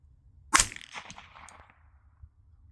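Suppressed 9mm subsonic round fired from an AR with a 16-inch barrel and R9 silencer: a single muffled crack with a short ringing tail over low background hum, and no talk.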